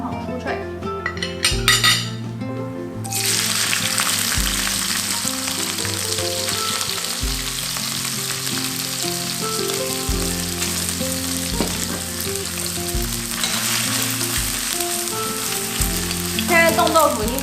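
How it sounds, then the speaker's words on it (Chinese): Frozen tofu frying in oil until golden and crispy, a loud continuous sizzle with clinks and scrapes of a utensil stirring against the pan. "我们就把冻豆腐放下去炒，炒到酥脆，整个金黄酥脆。"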